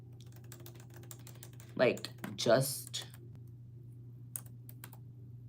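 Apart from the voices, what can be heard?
typing on a computer keyboard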